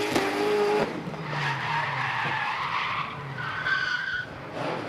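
Drift car at a D1NZ pro championship qualifying round in Tauranga, New Zealand, sliding through a left-hander under heavy throttle, with loud sustained tire skidding and squeal over a roaring engine, steady and close throughout.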